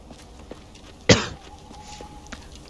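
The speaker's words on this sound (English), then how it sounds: "I hope my coughing isn't loud." A single sharp cough sounds close and brief amid quiet background ambience, followed by faint low noise.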